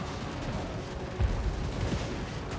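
Hell Cannons firing in the fantasy battle game Total War Warhammer 2, a continuous rumbling barrage of low booms with one heavier blast near the middle, loud and dense, no voices.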